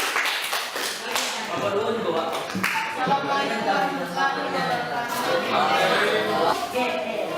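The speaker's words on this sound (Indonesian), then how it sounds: "kita berikan aplaus untuk kelompok 1" Classroom applause for a student group, a dense steady patter of many hands clapping throughout, fairly loud and close, with voices chattering underneath.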